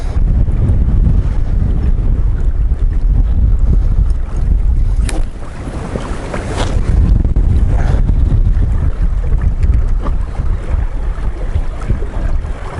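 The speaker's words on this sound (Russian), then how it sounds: "Вот это ветер." Strong wind blows across a river around a fishing boat, a loud continuous buffeting rumble on the microphone that dips briefly midway and then surges again, with no talk.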